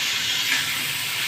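Taro stalks sauté in a pan with a steady, hissing sizzle that holds even and fairly loud throughout, with no voices.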